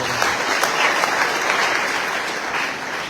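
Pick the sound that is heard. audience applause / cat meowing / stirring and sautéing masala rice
audience applause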